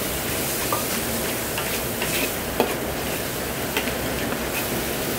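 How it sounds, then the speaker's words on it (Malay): A steady, close sizzle of vegetables stir-frying in oil for sambal, with faint scraping of a utensil stirring now and then; no talking. "Kita tumis hingga pecah minyak."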